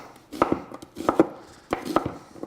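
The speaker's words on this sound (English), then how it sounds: "just rough chop those" Knife rough-chopping a peeled white onion on a cutting board, close and crisp: three quick bursts of several chops each, separated by short pauses, no talk.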